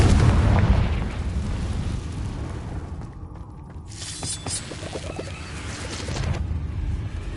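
A blasting spell explodes in a wizard video game, heavy booming blasts and rumbling bursts with crackling debris, loud and close, continuing throughout.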